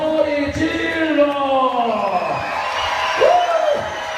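At a flyboard show at a water park event, the crowd yells and whoops loudly in sustained swells of shouting, with a voice calling out over the cheering.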